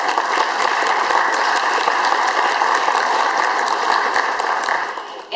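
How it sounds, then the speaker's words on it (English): A room full of people at a church women's league anniversary gathering gives a round of applause, a loud, thick wash of clapping that holds steady before tapering off at the very end. "Everybody give them a round of applause."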